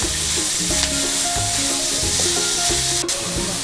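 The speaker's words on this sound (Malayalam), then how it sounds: "ഇനി സവാള നല്ലോണം ഒന്ന് വാട്ടിയെടുക്കുക." Sliced onions sautéing in a pan for a tapioca and prawn dish, with loud continuous sizzling and frying hiss close up, broken by repeated stirring scrapes and one sharp clink near the end.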